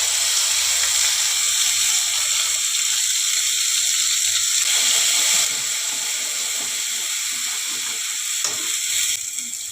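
Ground spice paste hits hot oil already holding black cumin seeds and green chilies for a rui fish curry with coconut milk, giving a loud, steady sizzle that softens partway through as stirring scrapes and clicks come in.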